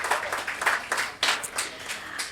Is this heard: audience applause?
yes